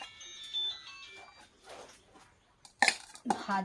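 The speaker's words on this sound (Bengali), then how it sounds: "থালায় নিয়ে নিচ্ছি ভাত" Rice is served onto a plate for a vegetarian lunch, soft scraping followed by two sharp clinks of a serving spoon against dishes, close and fairly loud, with someone speaking quietly beforehand.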